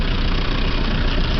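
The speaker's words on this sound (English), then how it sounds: "I'm going to give you the brush hog. Basically what that is, my PTO. connected to my diesel motor." A diesel tractor's engine drives a brush hog mower through the PTO, giving a loud, steady, unbroken rumble and drone with no voices over it.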